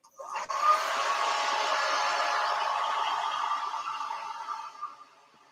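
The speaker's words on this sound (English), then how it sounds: "can I put the hairdryer on just to speed up the drying process?" A hair dryer clicks on and blows with a steady whirring hiss at close range for several seconds, then winds down and stops.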